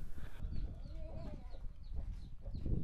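A six-spurred chicken kept by the Dao people clucks in short, repeated calls, close and clear over a low rumble of background noise, with no talk.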